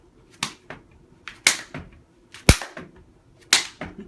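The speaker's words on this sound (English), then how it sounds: "do some clap push-ups, you know, just bam" Hands clapping sharply during clap push-ups, several crisp single claps spaced roughly a second apart, close and loud with quiet gaps between.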